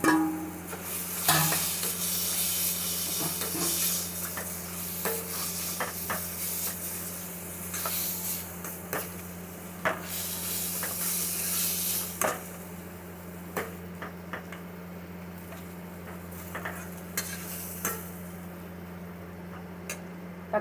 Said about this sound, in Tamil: தக்காளி கொஞ்சம் வதங்கணும்.